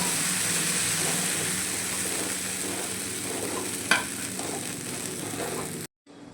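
Dosa batter sizzles on a hot pan with a steady, close crackling hiss. A single sharp clink sounds midway before the sound cuts off abruptly near the end.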